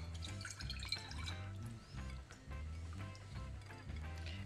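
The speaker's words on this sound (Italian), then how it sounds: "Metto un po' d'acqua e" Water is poured into tomato sauce in a home kitchen, faint trickles and drips falling in uneven bursts against a quiet background.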